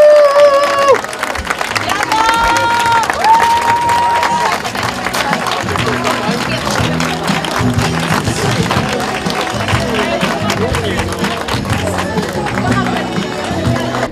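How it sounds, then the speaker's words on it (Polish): Crowd applause and cheering for the women's category winner at a running race awards ceremony, sustained clapping over loud background music, with an announcer's voice briefly heard at the start. "wielkie brawa, zapraszam."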